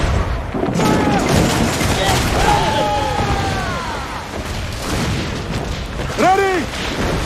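Cannon volleys boom from a sailing warship in the video game Assassin's Creed 4 Black Flag, a loud rumbling barrage mixed with shouted crew commands and game effects.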